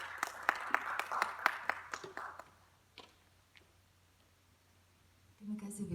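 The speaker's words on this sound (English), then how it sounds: "A round of applause." Audience applause at a Da Vinci celebration event in the National Art Gallery, a burst of claps fading out over a few seconds, then a quiet pause before a voice begins speaking.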